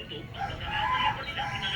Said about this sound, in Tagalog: Ayan o, mga manok natin o.